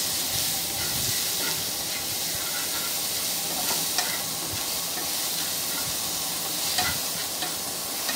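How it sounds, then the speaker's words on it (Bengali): Turmeric, salt and green chillies are stirred and fried in oil for a shrimp curry with stem vegetables and potato, making a soft, continuous sizzle with light scraping from the stirring. "নেড়ে চেড়ে দিচ্ছি ভালো করে যাতে মশলাটা একটু ভাজা ভাজা হয়ে যায়।"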